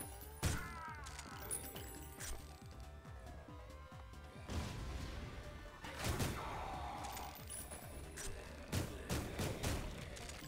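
Grenade blasts and gunfire in the shooter Ion Fury, a dense run of sharp bangs and crashes with heavier explosive bursts around the middle, loud and continuous over a mechanical game backdrop.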